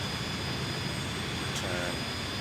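Tupolev Tu-154 jet engines in Microsoft Flight Simulator roar loudly and steadily, with a constant broadband whine and a brief faint chime partway through.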